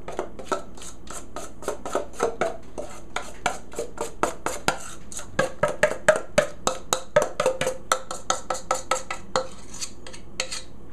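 A utensil scrapes batter into a greased loaf pan for a bread mix, repeated sharp scraping clicks against metal in an uneven rhythm, close and fairly loud with no talking.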